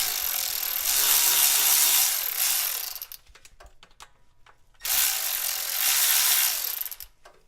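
A hand ratchet turns throttle body bolts on a GM 4L80E transmission, giving two sustained bursts of rapid, close clicking separated by a short pause with a few scattered taps.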